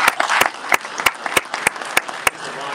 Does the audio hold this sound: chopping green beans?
no